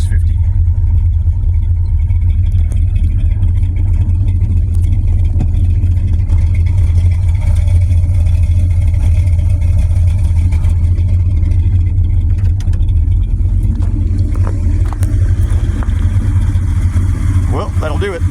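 A 1972 Chevrolet Caprice with a 400 small-block V8 idles steadily at a low curb idle, a deep, even rumble that stays loud and close throughout.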